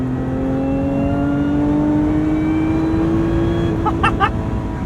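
A Lotus Emira with a 400-horsepower supercharged V6 and manual gearbox pulls hard toward its 6,800 RPM redline, its engine note steadily rising in pitch as a loud, sustained interior drone from the driver's seat.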